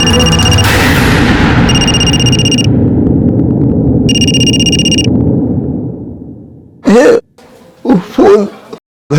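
A phone ring tone on speakerphone sounds in repeated bursts over a low rumbling background, then fades out before a few short voice sounds.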